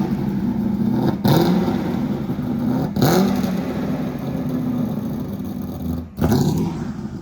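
Homebuilt 383 engine roaring loud and steady on a dyno, with a sharp blip or shift-like break every couple of seconds before the drone resumes.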